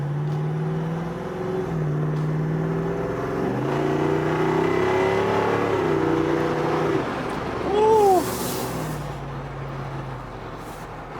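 A 2021 Jeep Rubicon with a 392 Hemi V8 pulling hard, its engine note rising through the gears with short breaks at each shift, loud and heard from inside, with no talking.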